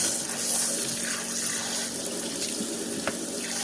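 Tap water runs steadily into a kitchen sink being washed down with bleach, soap and water, a soft continuous splashing with a faint clink near the end.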